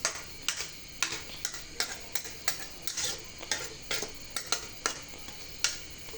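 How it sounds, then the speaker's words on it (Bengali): A spoon stirs taro and hilsa fish curry in a pot, making a steady run of close, light scraping taps against the pot with no talking. "দেখেন আমি কিন্তু সুন্দর মতো নাড়া দিয়ে দিচ্ছি"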